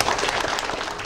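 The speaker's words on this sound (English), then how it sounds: "How about one more round of applause?" A crowd applauds at a Veterans Day ceremony, a steady, dense wash of clapping that holds even and fairly loud throughout the short stretch.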